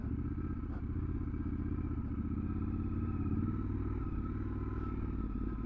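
A Triumph Scrambler 1200 XE rides off road along a cut-back track, its engine a steady low rumble with light clatter and knocks from the rough ground, continuous and fairly subdued.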